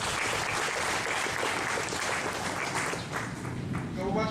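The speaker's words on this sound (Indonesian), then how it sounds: "Mari kita tepuk tangan untuk Bapak Gubernur." Audience applause for the governor at an aid handover event in West Papua, continuous hall-filling clapping from a crowd, loud and steady throughout with faint voices beneath.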